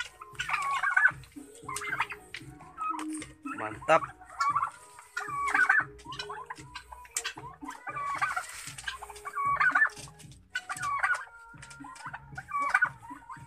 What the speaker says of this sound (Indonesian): Ayam kalkun.